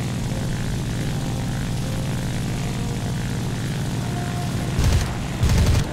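A propeller airplane engine drones loudly and continuously in War Thunder, a dense buzzing roar with two short bursts of heavier noise near the end, no voices over it.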